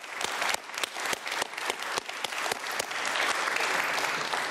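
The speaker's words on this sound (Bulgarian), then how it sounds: "Аплодисменти" A studio audience on a talk show breaks into applause, starting with distinct, sharp claps and swelling into a thick, continuous ovation.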